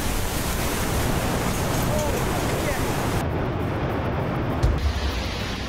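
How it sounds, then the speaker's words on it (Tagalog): Large typhoon waves crash into buildings along the Aurora coast, a loud, continuous roaring wash of surf and wind that barely changes, with a brief thump near the end. "malaking hampas ng alon umabot sa second floor ng mga gusali sa Aurora"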